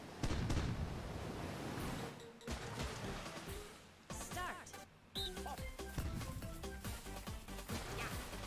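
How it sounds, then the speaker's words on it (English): Bombs exploding in the bombardment minigame of Mario Party Superstars, a rapid series of sharp blasts and crashing impacts with sparkly chimes, dense and loud throughout with brief gaps. "Bombs away. This is the bombardment minigame."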